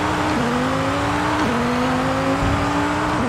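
A 1,737 hp Formula Drag Viper launches off the e-brake in Forza Horizon 5, a loud held engine note rising in steps through quick gear changes, with continuous roaring throughout.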